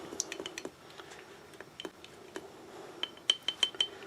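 A spoon stirs beeswax and mineral oil melting in a small pan set in a larger pan of water, giving faint scattered clinks and taps against the metal, a little quicker toward the end.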